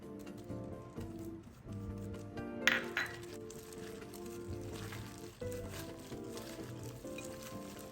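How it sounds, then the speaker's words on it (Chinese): Cornstarch-coated pork belly chunks hit hot oil over medium-low heat with a clink, then a steady close sizzle of deep-frying continues over soft background music. "油热后，再将肉块全部放入油炸"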